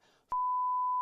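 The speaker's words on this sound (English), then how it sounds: "You have to beep that one." A loud, steady censor bleep tone cuts in after a brief stretch of low talk and holds for most of a second, covering speech during a talk show about hosting at an anime convention.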